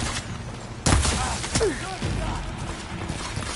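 Gunfire and mechanical clanks during a fight against machine riders on a field in the video game Horizon Forbidden West, a sharp loud burst near the start followed by scattered impacts and whirring machine noises, with a voice briefly under the action.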